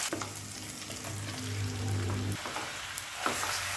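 Chicken fries over a high flame with green chilli paste and tomato, a dense steady sizzle up close while a spatula scrapes and turns it, a brief low hum midway and a couple of light clinks near the end.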